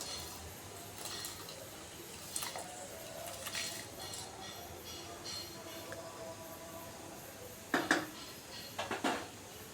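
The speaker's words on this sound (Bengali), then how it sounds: "আমরা এদিকে ঢাকাটা তুলে নিয়ে ধুয়ে রাখা চালটাকে দিয়ে দিব" Clattering as a pot lid comes off and washed rice goes into the pot while cooking chicken dum biriyani, with a few light clinks early on and a sharper cluster of metallic knocks near the end, over quiet kitchen background.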